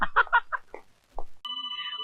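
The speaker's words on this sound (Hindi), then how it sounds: "ये दिल की घंटी नहीं, मोबाइल की घंटी है।" A mobile phone rings during a Hindi comedy scene: speech comes first, then a steady electronic ringtone with sustained tones starts suddenly and continues to the end.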